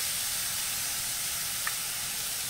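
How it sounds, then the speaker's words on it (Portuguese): Finely chopped onion sautéing in butter in a pan: a steady, even sizzling hiss that holds throughout, broken only by one tiny click, with no voices. "Vamos misturar essa cebola aqui e vamos refogar essa cebola também."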